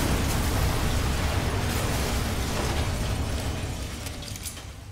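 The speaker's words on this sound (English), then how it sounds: "we are gonna shoot this little explosive barrel" A loud, rumbling explosion of an explosive barrel in the video game Mafia 3 roars and slowly fades away, dense and noisy, with no voices.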